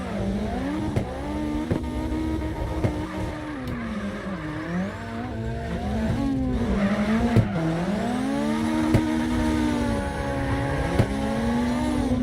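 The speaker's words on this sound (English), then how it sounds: "They're going forward in the drift, ladies and gentlemen." A car drifts in the CarX Drift Racing Online video game, its engine droning and wavering through long, sustained tire squeals with a few sharp clicks, loud and close with no voices.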